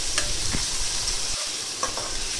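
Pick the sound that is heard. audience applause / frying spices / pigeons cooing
frying spices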